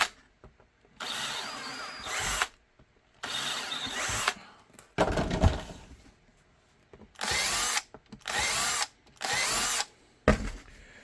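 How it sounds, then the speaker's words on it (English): A power drill bores out a piece of a Level 2 pancake holster with a triple mag carrier, in about six loud, close bursts of whining drilling separated by brief pauses and handling clatter. "Go ahead and drill this out."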